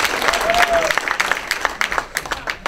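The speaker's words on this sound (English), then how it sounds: "how about a huge round of applause for our timekeeper, Nate Porter" Audience applauding the timekeeper at a Georgia GOP chairman candidates forum in Fulton County, clapping mixed with cheers and talk, with loud individual claps standing out close by before it thins toward the end.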